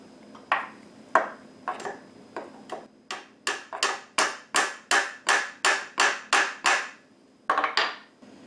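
Tacks hammered into a wooden chair frame while rush caning it: a dozen or more sharp, ringing taps in a steady rhythm, close and loud, with a few spaced strikes before and after the main run.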